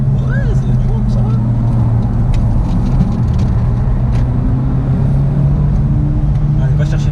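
A Honda Civic engine drones steadily in a racing game on the Nürburgring, a continuous mid-level hum with a slight rise in pitch, while excited voices talk over it.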